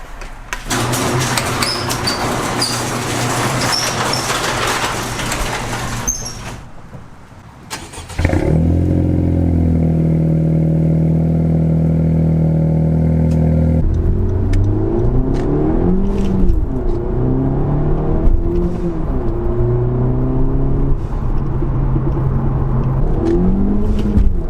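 A cammed Infiniti G35 with full bolt-ons revs hard, building from a rough idle into loud, sustained engine roars, with a brief quiet gap before a long, wavering high-rev pull that rises and falls. No one speaks.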